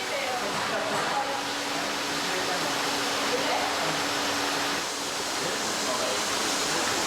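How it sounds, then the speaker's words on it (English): Hot whey pours and splashes steadily out of large Comté cheese moulds, a continuous rushing wash of liquid noise heard at moderate level throughout. "the whey spills from the mould, which makes quite a spectacular scene"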